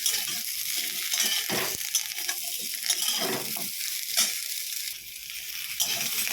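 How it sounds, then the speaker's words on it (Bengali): Drumstick stalks (sajna data) stirred as they fry in a pan for a spicy poppy-mustard dish: a steady close sizzle throughout, with repeated scraping stirs and brief clatters of the utensil, no talking. "ডাটাটা দিয়ে ভালো করে একটু নাড়াচাড়া করে নিলাম"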